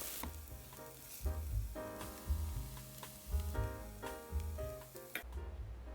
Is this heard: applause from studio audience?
no